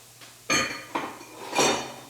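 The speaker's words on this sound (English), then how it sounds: "So I'm going to put all of that in here and listen to it sizzle." Vegetables hit hot oil in a pan in a few bursts, a crackling sizzle that flares up and settles, with clattering pan noises mixed in.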